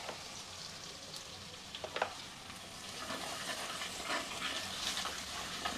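About ten crushed garlic cloves fry in hot oil in a pan for an okra and dried sardine tamarind curry, a soft steady sizzle with occasional spatters and stirring scrapes.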